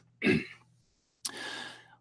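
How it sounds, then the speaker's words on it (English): Someone clears their throat twice, close to the microphone: a short, rough burst, then a pause of silence, then a longer, breathy rasp. "I'm going to keep apologizing for clearing my throat."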